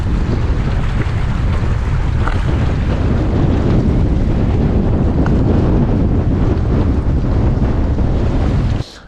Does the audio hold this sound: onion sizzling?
no